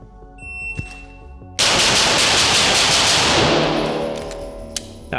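Rapid pistol fire during a shooting drill, a loud sharp report followed by a dense, sustained crackling burst that rings out and decays, with faint clicks before and after.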